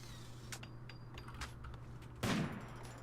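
Gunfire in the RimWorld video game as a colonist named Clark shoots at Jin: a single sharp, loud burst of shots cuts in near the end over a steady low hum.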